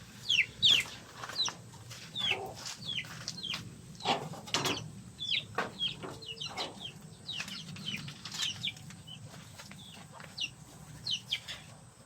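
Young Talisayin chicks and fowl in a humid pen give repeated sharp peeps and soft clucks, with occasional wing flapping, fairly close and without talk.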